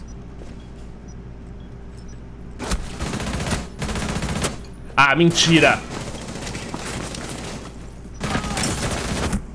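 Gunfire in the video game Rainbow Six Siege: several sharp bursts of automatic fire, some close and loud and others farther off, with a voice briefly speaking over the shots.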